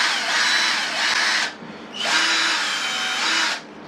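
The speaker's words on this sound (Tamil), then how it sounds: "இந்த மேலே உள்ள இந்த சிம்பிள் வந்து ட்ரில்லு போடுறது" A newly unboxed electric power drill runs in two sustained, loud, high-pitched whirring bursts separated by a brief pause, with no speech.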